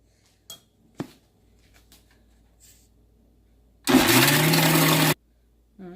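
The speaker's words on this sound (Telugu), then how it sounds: "ముక్కలు ఉంటే ఎక్కడన్నా మళ్ళీ ఇంకొకసారి మిక్సీ పట్టుకుంటే మెత్తగా అయిపోతుంది" A kitchen mixer grinder grinding ginger pieces for chutney: a loud, steady whirring motor drone starts abruptly, runs about a second, then cuts off, after a few faint clinks and taps.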